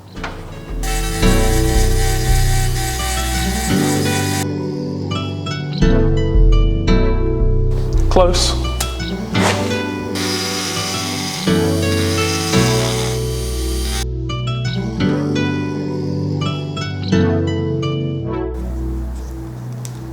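A power tool grinds at an RX-8 rotary engine casting during bridge porting, in loud bursts of high whine broken by short pauses, with brief speech at one point.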